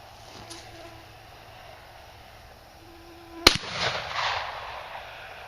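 A single loud shotgun blast from a Rossi S411220 survival rifle firing a 2.5-inch slug at a milk jug outdoors, one sharp report followed by a brief rumbling echo and faint scattering noise, with no talk.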